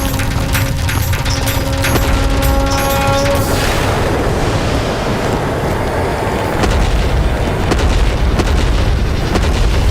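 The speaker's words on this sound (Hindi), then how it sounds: "विस्फोट।" A loud, continuous explosive roar with deep rumbling and crackling debris, swamping a faint earlier hum.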